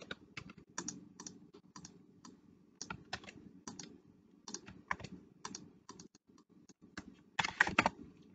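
Fingers type on a computer keyboard in short irregular bursts of clicks across several seconds, close and fairly quiet, ending in a louder cluster of keystrokes.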